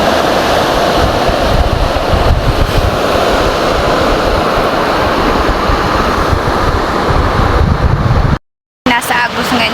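Water rushes steadily along the Agos river on a rainy day, a dense, close, continuous roar mixed with some wind buffeting, cut by a brief silence near the end.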